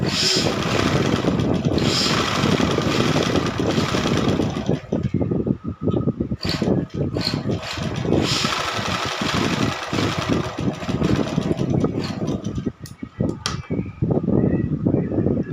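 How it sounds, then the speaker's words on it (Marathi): A sewing machine stitches the neckline of a blouse on canvas, its motor running as a steady, close whirring drone with a few brief pauses and slowdowns. "इथे मी पूर्ण शिलाई मारलेली आहे"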